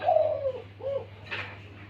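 A captive Thai large dove gives a few soft, throaty coos at a moderate distance, a quick falling phrase followed by a shorter answering note, over a low steady background hum.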